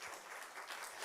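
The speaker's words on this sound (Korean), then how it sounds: "우리 막 박수, 하나님께 박수." Applause from a congregation during a Wednesday church worship service, a steady wash of clapping that runs through the whole short moment at moderate, slightly distant loudness.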